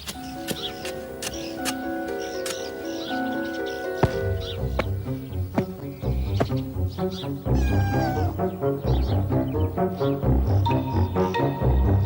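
A cat meows repeatedly near a funnelweb spider in a Sydney garden, its cries rising over layered background music that swells partway through.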